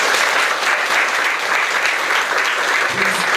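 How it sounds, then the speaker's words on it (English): An audience gives a lecture speaker a warm round of applause, a dense, even clapping that carries on steadily throughout. "Let us give her a round of applause."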